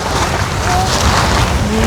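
Strong wind blows outdoors during kite flying, a loud, steady roar buffeting the microphone throughout.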